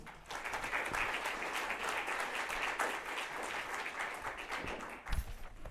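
An audience at a community health forum in Winthrop applauds, with sustained, dense clapping that holds steady for several seconds before it tapers toward the end.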